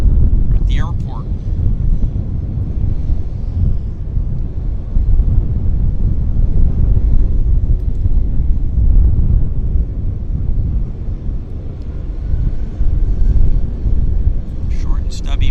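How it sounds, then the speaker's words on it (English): Boeing airliner passing at Vancouver YVR airport, a broad, steady low roar that swells and lingers over the whole stretch, with gusty wind noise at the microphone throughout. "Short and stubby Boeing."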